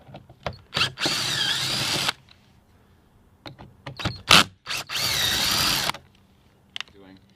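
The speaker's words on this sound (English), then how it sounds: "Now go ahead and remove the 3 T30 bolts." Power tool driving out three T30 bolts on a BMW F30 door, loud whirring bursts in two long runs with shorter spurts and clicks between, close by.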